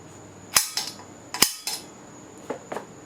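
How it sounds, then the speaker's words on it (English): A center punch struck on metal on a welding table, two sharp, close metallic strikes with ringing tails, followed by softer taps. "I'm just do a little center punch here."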